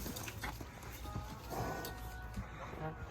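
A startled horse shifts and stamps while being saddled, a few hoof thuds and scuffs up close, with a voice talking over the commotion.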